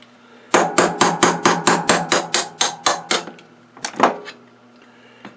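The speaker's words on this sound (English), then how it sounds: "Grab a hammer." Metal-on-metal hammer blows driving a part out of a Singer 201-2 sewing machine potted motor, a fast steady run of about eleven sharp strikes, a short pause, then two more, close and loud.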